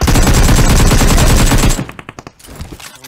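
Rapid automatic gunfire rattles loud and close in BGMI, a fast unbroken burst that stops abruptly and gives way to a few scattered, fainter shots.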